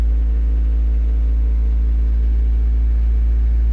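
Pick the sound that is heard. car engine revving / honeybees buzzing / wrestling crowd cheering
car engine revving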